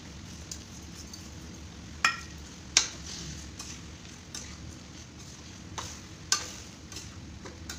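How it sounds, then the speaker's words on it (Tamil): Tomato pachadi with rock salt stirred in a pan, a soft low bubbling bed broken by a few sharp clinks of a utensil against the rim, fairly quiet and close, no talking. "கல்லுப்பு ஆட் பண்ணி நல்லா கலந்து விடணும்."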